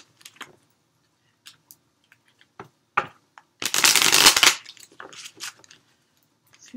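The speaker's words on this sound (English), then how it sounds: "A few more shuffles." A deck of cards being shuffled, with a loud dense riffle burst in the middle and scattered light card taps and flicks around it, close and without talk.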